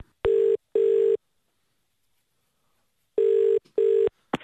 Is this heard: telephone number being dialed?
yes